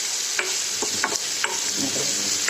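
Vegetables roasting in a steel pan over low gas, with a soft continuous sizzle broken by several brief stirring scrapes, heard up close and alone.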